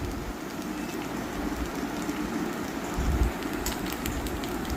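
Fasting appe frying in an appe pan until crisp on both sides, a soft steady sizzle and crackle with faint popping, close by and without talk.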